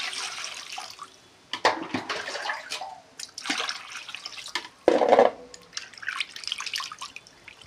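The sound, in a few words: water poured to wash rohu fish pieces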